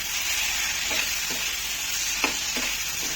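Whole garlic cloves frying in a pan for egg curry give a steady, bright sizzle of hot oil, close up, broken by a few soft scrapes of stirring.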